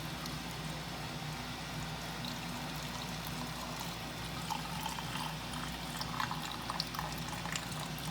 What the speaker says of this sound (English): So you're gonna insert your funnel and then pour your brine in.